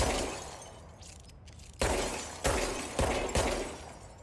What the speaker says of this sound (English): I like that the whole window doesn't fall out.